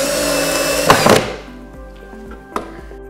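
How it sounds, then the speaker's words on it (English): A power drill on slow speed drives a screw into recycled wood for a birdhouse, whirring up close for about a second before stopping, followed by a single solid knock. "Can you check and see if your drill is on fast or slow?"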